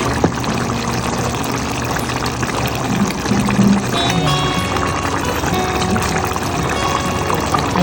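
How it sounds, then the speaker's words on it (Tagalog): Ketchup goes into a pan of binagoongan with eggplant, giving a continuous, fairly loud pouring and wet trickling sound over steady kitchen noise. "I-try ninyo lalagyan ng ketchup."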